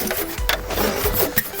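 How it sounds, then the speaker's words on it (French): A wood saw rasps through a wooden pergola post in short back-and-forth strokes, cutting a half-lap joint, close and rough, with brief pauses between pushes. "Donc là on réalise les coupes des poteaux pour réaliser un assemblage mi-bois."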